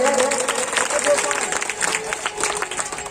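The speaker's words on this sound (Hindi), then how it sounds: "आप लोग एक बार अपने लिए ताली बजा दीजिए। अरे अपने लिए जोर से बजाइए भैया।" A crowd at a school gathering in India claps together in a lively, sustained burst of applause, with a dense patter of hand claps and a voice speaking over it.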